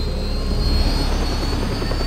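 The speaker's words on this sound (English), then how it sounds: "Well, I got my helicopter." Helicopter in Just Cause 2, a loud, steady engine and rotor roar filling the whole moment with no talk.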